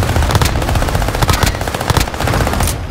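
Loud, close automatic weapon fire in a video game, continuous rapid bursts rattling with hardly a pause.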